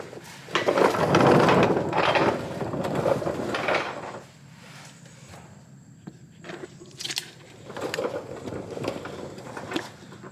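Drain and fill plugs being loosened on a C4 Corvette's ZF6 manual transmission with the car jacked up, close ratcheting clicks and metallic tool handling, bursts of effort followed by quieter pauses and a few sharp clinks.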